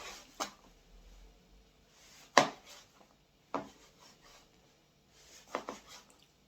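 A knife chops vegetables on a green chopping board in a home kitchen, with a few separate knocks and scraping strokes at irregular intervals and soft rubbing between them, close and without talk.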